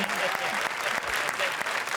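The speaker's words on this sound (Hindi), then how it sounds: "जोरदार तालियां" Enthusiastic applause from a TV comedy show studio audience, a dense crackle of clapping sustained through the moment, with a voice briefly audible underneath.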